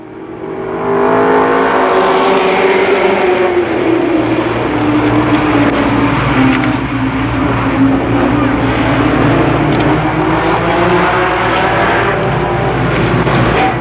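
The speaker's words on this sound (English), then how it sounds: "Now Strobel edges ahead of Sword on the backstretch" ARCA Pro 4 race cars racing on the Columbus Motor Speedway oval in 1990, a loud, sustained engine drone rising and falling as the pack circulates, with an announcer talking over it.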